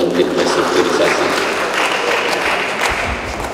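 An audience applauds the restructuring team at a formal gathering, a sustained wash of clapping that holds steady throughout, with a voice speaking over it.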